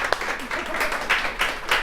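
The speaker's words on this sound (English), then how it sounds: "We'll give them a round of applause." An audience at a leaders' panel discussion applauds the panelists, a steady wash of clapping from many hands in a room, moderately loud and continuous for the short stretch.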